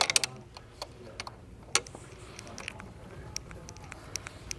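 A ratchet works on intake manifold bolts of an MK7 Volkswagen GTI, giving faint, scattered clicks and short metallic ticks close by in a quiet garage, with a few sharper clacks.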